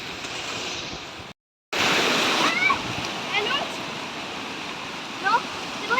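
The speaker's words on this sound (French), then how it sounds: "il y a des grosses vagues là" Big sea waves washing and splashing continuously near the shore, a broad steady surge with a brief dropout, while people speak over it.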